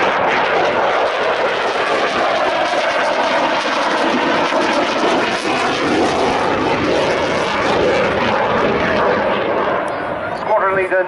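A Typhoon jet flies a display pass with rolls along the crowd line at the Duxford summer air show. Its engine roar is loud and unbroken throughout, a dense, close rumble that fills the whole stretch.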